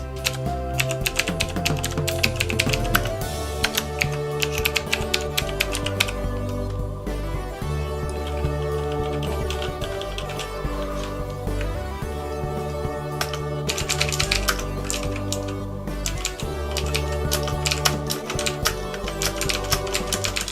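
Rapid, continuous clacking of computer keys, close and steady, with brief pauses between bursts of typing and no talking.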